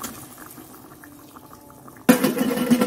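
Water poured into a cooking pot holding potatoes: a low bubbly background, then a sudden loud rushing splash and gurgle that starts abruptly near the end and keeps going.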